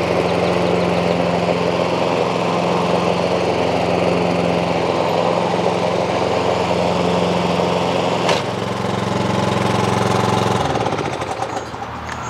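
Toro SR4 lawn mower with a 159cc engine, blade clutch fitted, running steadily at a loud close idle, a sharp click partway through, then the engine note drops and winds down near the end.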